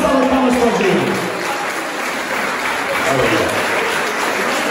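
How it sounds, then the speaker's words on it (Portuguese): A crowd at a village fair in Vale das Éguas applauds a performer named Gil, with dense, steady clapping that holds loud throughout, with some voices mixed in. "Uma salva de palmas para o Gil."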